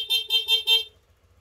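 The horn of a Honda Click V2 scooter with 112,000 km on the odometer beeps four times in quick, even succession, loud and close, then falls silent.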